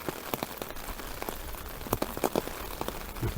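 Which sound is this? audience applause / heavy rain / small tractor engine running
heavy rain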